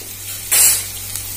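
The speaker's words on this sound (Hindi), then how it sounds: "अब हम इसमें अपने कटे हुए प्याज डाल देंगे। इसे थोड़ा पकने देंगे।" Chopped onions hit hot oil in a pan with a sudden loud hissing sizzle lasting under a second, then settling back to a faint steady background hiss.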